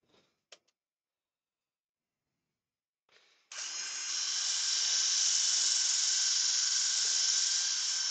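A wood lathe with dust extraction starts up for sanding the inside of a bowl with a drill; after a few faint clicks it settles into a loud, steady, high whirring drone that holds to the end.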